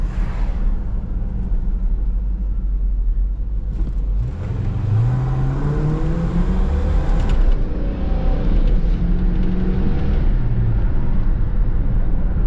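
An LT1 engine runs smoothly after a misfire fix involving a cracked spark plug, a loud steady low rumble with revs rising and falling in sweeping tones, heard up close with no talking.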